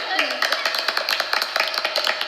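Children clap during a storytelling lesson, a quick run of crisp, uneven hand claps close by, with a voice speaking over them.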